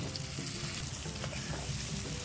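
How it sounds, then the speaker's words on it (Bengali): Potato and eggplant pieces fry in oil in a pan with chopped green chilli, a continuous hissing sizzle with soft scraping of a stirring utensil throughout, close and fairly quiet, with no voices. "আলুটা বেশ কিছুক্ষণ ভাজার পর বেগুনের টুকরোগুলো দিয়ে দেব"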